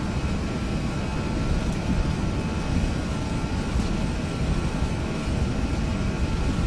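Jet airliner on the takeoff roll in a flight simulator, Lufthansa flight departing Copenhagen runway 04 left, a loud, steady roar of engines with a broad, even rumble and faint whine held throughout.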